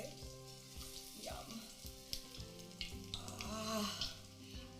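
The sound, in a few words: battered cauliflower sizzling in frying oil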